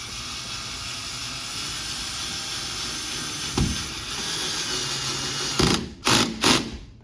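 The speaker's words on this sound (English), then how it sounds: "I'm going to take my screw right here and go ahead and put it on in" A screw driven in by hand during installation of an AutoSlide automatic door opener, a steady ratcheting mechanical whir running close and continuous, ending in a few short separate bursts, with no talking.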